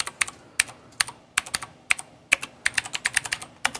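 Rapid typing on a tappy computer keyboard, a steady stream of sharp, close key clicks in irregular bursts, with no talking.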